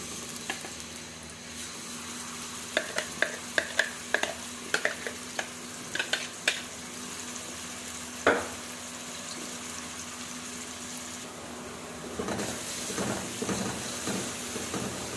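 Finely chopped onions soften in a pan with a constant low sizzle, a series of sharp spoon taps and scrapes against the pan, and a louder frying swell near the end.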